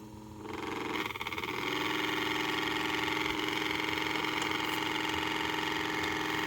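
The motor of a miniature pottery wheel spins up and settles into a steady, loud whirring hum that stays even throughout, with no talk over it.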